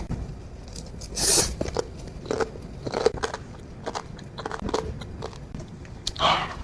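Close, crisp biting and crunchy chewing of jellyfish food in an eating session, with a few sharp bites followed by steady soft mastication, quiet and intimate.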